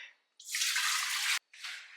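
Water pours into a saucepan in two bursts, a loud rushing stream that runs for about a second, pauses briefly, then resumes more softly, with no talking.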